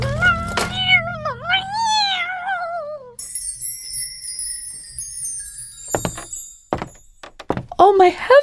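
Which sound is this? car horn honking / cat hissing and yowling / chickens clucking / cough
cat hissing and yowling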